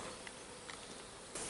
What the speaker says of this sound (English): you can see the flying bees are already back in the hive